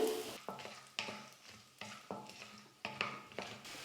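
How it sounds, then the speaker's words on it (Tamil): Peanuts, urad dal and chopped chili roasting in hot oil with a little asafoetida, a steady close sizzle broken by several scraping stirs of the pan every half second or so, no voices. "எண்ணெயில் லைட்டாக வேர்க்கடலையை வறுத்ததுக்கப்புறமா"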